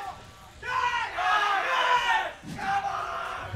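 An esports crowd at a Dota 2 match shouting and cheering in big surging waves. The roar swells, drops off briefly, then rises again, loud and close, with voices mixed through it.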